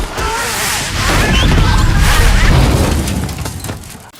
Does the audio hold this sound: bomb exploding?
yes